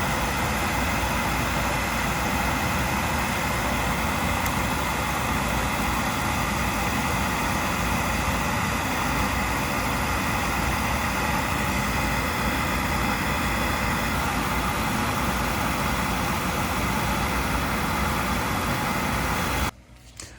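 Viessmann oil boiler burner and pump running: a loud, steady broadband roar with a constant hum, unbroken for about twenty seconds before cutting off abruptly at the end.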